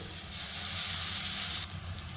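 Vegetable noodles for veg hakka noodles hit a hot pan with a loud, steady sizzle that fills the whole stretch, easing slightly near the end, with no voices.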